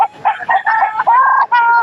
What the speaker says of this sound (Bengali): এখানে লড়াই করার মুরগি পাওয়া যায়